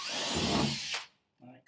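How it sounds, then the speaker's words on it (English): A power drill whirs steadily for about a second while drilling into wood inside a canal boat, then stops abruptly; after a short pause, a few faint low knocks follow. "Drill in the corner so I can get me jig in"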